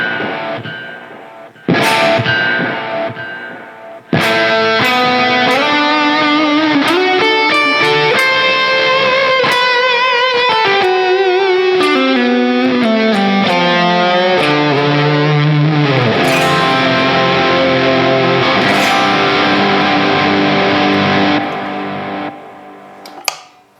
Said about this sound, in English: now let's put some delay on,